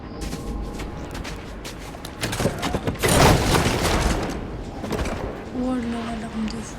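Gunfire from a firearm in the video game Fortnite, loud bursts of shots clustering around the middle of the passage over a busy game soundscape, with a person talking.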